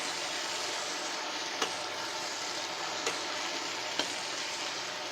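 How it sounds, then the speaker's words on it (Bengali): Dried fish and taro stolons sizzle steadily in a hot pan, a close, even frying hiss broken by three brief sharp scrapes or clinks of a stirring utensil. "এটা একটু কষায় নিচ্ছি।"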